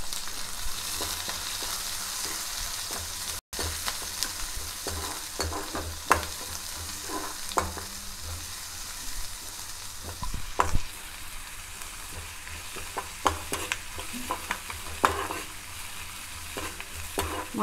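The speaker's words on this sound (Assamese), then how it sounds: "এইখিনি মই ৰঙচুৱাকৈ ভাজি ল'ম" Whole cumin seeds, slit green chillies, onion, ginger and garlic fry steadily in hot oil with a continuous sizzle, broken by scattered scrapes and taps as a spoon stirs the pan.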